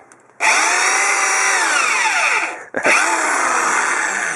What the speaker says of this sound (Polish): udało mi się e, sprawdzić moc wiertarki, ponieważ musiałem ją dobrze docisnąć